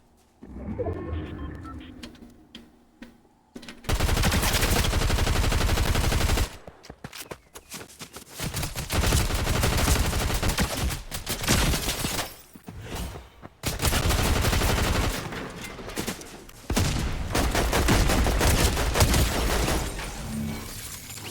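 Rapid automatic gunfire in a Fortnite solo match comes in loud, sustained bursts of several seconds each, separated by short pauses and a few quieter clicks and shuffles.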